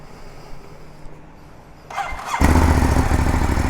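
A 2019 Ducati Monster 821 V-twin motorcycle sitting in neutral cranks briefly after a quiet moment, then fires up into a loud, close, lumpy idle.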